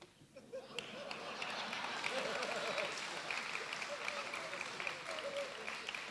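Audience at a political parody stage show breaks into sustained applause, a dense wash of clapping from a large crowd that swells after the first second and holds steady, with chatter and cheering mixed in throughout.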